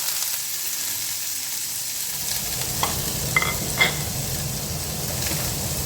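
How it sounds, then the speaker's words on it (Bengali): Tomato, onion, green chilli and garlic sizzle steadily in a pan while a utensil stirs them, with a few sharp scrapes and clinks near the end; no voices. "এবারে এটাকে আমি নেড়ে চেড়ে একটু ব্রাউন কালার হওয়া অবধি একটু নেড়ে চেড়ে নেব।"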